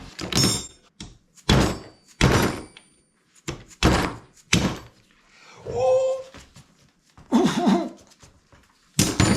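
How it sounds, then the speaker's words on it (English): During a teardown of a CR85 motorcycle engine, a 10mm socket gets struck repeatedly, making a series of loud, sharp metallic bangs at irregular intervals, with a couple of short exclamations in between. "I grabbed a 10mm socket, placed it in there, and give this a bang."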